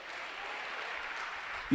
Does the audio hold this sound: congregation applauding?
yes